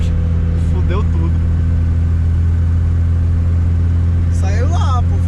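A Chevette car engine idles with a loud, steady low drone and a constant mechanical hum, while people talk briefly over it at the start and near the end.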